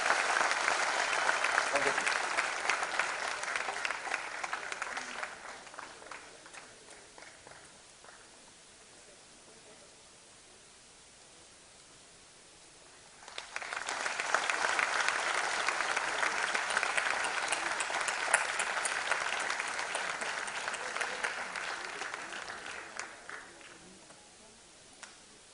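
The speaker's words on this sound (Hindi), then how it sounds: "प्लीज तालियों का स्वागत, तालियों से और कीजिए" Audience applause at an award ceremony honouring a singer, two long bursts of many hands clapping in a large hall, the first fading away into a quiet lull before a second strong wave rises and then tapers off.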